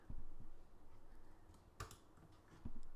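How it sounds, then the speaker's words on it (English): Computer keys are tapped during stud wall modeling work, giving a few faint, sparse clicks and taps close by with a quiet background and no talk. "by hitting M on the keyboard and then Control and then drag a copy off to the side"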